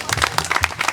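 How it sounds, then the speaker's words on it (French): Everyone at a school's silver jubilee applauding, a short burst of crowd clapping with distinct individual claps near the listener. "sous les applaudissements de tout le monde"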